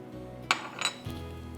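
Utensil clinks against a bowl while flour is mixed with salt, garlic powder, black pepper and chili powder in a kitchen, a couple of sharp metallic taps followed by a softer scrape, close and fairly quiet.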